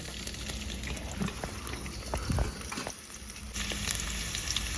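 White cooking oil crackles and bubbles softly in a pan while radish paratha is being cooked. The steady, fairly close sizzle shifts slightly in texture partway through, with no voices.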